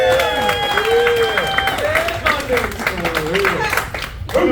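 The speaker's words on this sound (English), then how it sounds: "clap your hands" An audience at a live stand-up comedy show claps along in a rhythmic beat while a loud, excited voice talks and shouts over the room, the claps repeating steadily under the speech.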